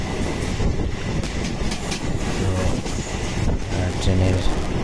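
A passenger train runs along the rails on the trip home, a steady close rumble with faint wheel clatter underneath, while someone talks over it.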